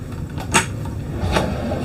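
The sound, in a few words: drawers opening and closing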